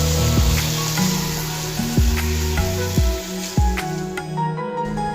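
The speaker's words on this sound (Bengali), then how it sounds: "এই যে কচি সবজি রান্না করছে।" Young vegetables frying in a pan, a loud, close sizzle with repeated scraping stirs at roughly one-second intervals, no speech.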